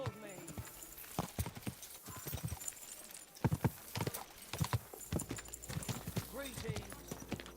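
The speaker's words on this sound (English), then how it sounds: "Hey, the horse nearly trampled me." Horse hooves in the medieval video game Kingdom Come: Deliverance 2, irregular clip-clop strikes moving close by over a city street with a snort, while in-game voices talk over them.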